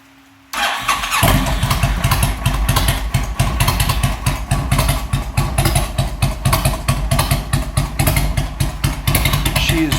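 A 2006 Honda VTX 1300R motorcycle with Hard Krome exhaust cold-starts with the choke off after a brief crank, then settles into a loud, close, lumpy low idle with a steady uneven throb.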